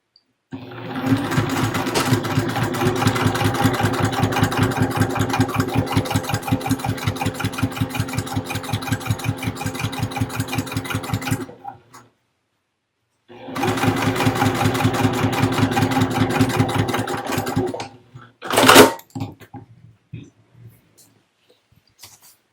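A sewing machine stitches two fabric panels together along a 3/8-inch seam, a rapid steady mechanical chatter running for about ten seconds. After a short pause it runs again for about five seconds, followed by a brief clunk and quiet handling.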